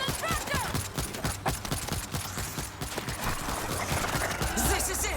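Rapid bursts of gunfire from the video game World War Z, dense and loud, firing almost continuously with clattering mechanical reload sounds mixed in.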